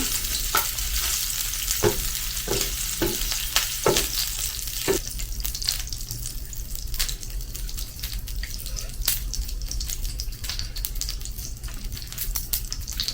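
A5 Wagyu ribeye pieces sizzle steadily on a hot surface, a loud continuous hiss broken by crackles and brief spatters, with a few sharper pops near the start.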